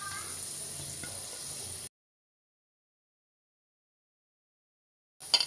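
Chopped cabbage added to a hot pan for a winter vegetable bhaji sizzles with a steady, bright frying hiss, then cuts to a long silence before a short burst of sizzling returns.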